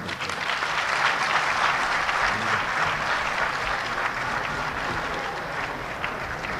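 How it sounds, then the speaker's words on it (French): Audience applauding Mali's Prime Minister at a public gathering: sustained, dense applause from a large crowd, loud and even from start to finish with no speech above it. "On applaudit très fort, s'il vous plaît."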